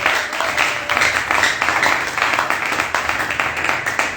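A church congregation at a Sunday service claps together in a steady, dense round of applause that fills the room and holds at an even level throughout.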